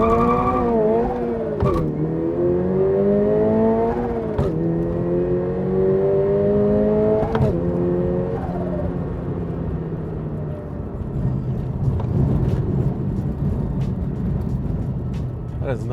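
A 1985 Toyota AE86 sports car launches hard from a standstill, its engine revving loudly up through several gears, each pitch climb cut off by a shift, before settling into a rougher, lower drone.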